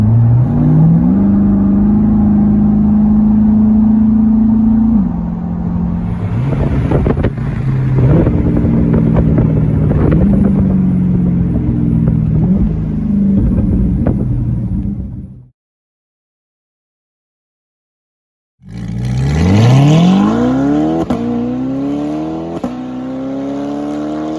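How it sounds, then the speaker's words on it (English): A C8 Corvette fitted with straight pipe exhaust and high flow cats accelerates hard, its loud engine note rising and surging through gear changes, dropping out briefly, then roaring back up as it climbs again. "if you accelerate, this is what it sounds like."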